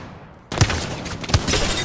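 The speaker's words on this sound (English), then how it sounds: "Opening fire." Video game gunfire opens abruptly in a dense burst of rapid shots, with two sharper heavy reports standing out, loud and close.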